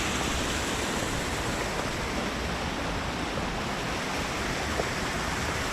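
Splashing from a fountain water feature in downtown Greenville fills the space as a dense, unbroken wash of falling water, close and constant with no voices.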